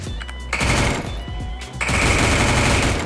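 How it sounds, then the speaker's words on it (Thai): Gunfire in the mobile battle royale Free Fire: dense, loud, rapid-fire bursts in two main stretches with a brief lull between, dominating the mix. "ยิงโดนอยู่"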